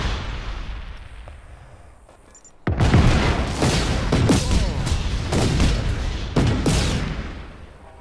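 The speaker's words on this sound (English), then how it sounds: "let's just blow these things up for fun" Explosions in Just Cause 3 go off after a quieter stretch: a sudden loud blast, then a rolling barrage of booms and crackling bursts that stay dense and close until the end.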